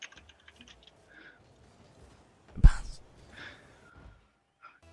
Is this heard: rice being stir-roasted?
no